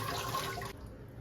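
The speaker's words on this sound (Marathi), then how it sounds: "त्याच्यावर लगेच गार पाणी टाकायचंय" Cold water poured over boiled spinach in a kitchen, a steady close splashing rush that cuts off sharply near the end, leaving a faint hiss.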